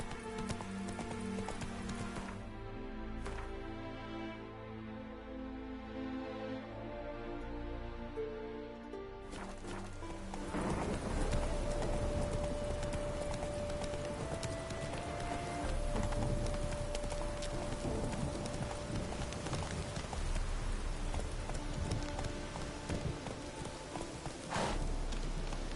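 Galloping horse hooves in The Witcher video game, a steady clip-clop rhythm that begins after a brief musical stretch and carries on loud and close, with a long tonal note running over it.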